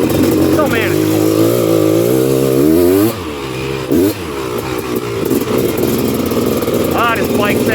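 A Honda TRX330R quad with a two-stroke engine revs and rides continuously, loud and close, its buzzing pitch rising and falling with the throttle, while someone talks over it.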